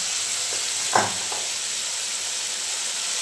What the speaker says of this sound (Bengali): দিয়ে দিলাম হলুদ গুঁড়ো, অল্প একটু জল দিয়ে মশলাটা কষে নিচ্ছি